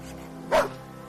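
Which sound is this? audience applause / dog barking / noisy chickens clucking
dog barking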